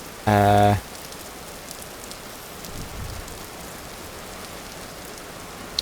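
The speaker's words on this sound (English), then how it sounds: "Well, it is raining." Steady rain patters continuously on surfaces in the video game Vintage Story, soft and even, after a short loud harmonic tone at the start.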